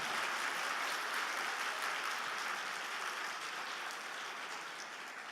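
Sustained applause from a church congregation during a Sunday service, a dense, steady wash of clapping that fades slightly toward the end, with no voices over it.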